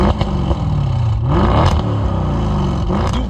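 Audi RS6 C7 limousine with stage 1 ethanol tune, 730 hp, accelerating hard, its engine rising and falling in loud throaty revs with whirring and clattering up close, no voices over it.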